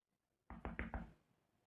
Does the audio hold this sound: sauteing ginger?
no